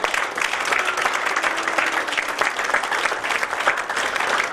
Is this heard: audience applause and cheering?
yes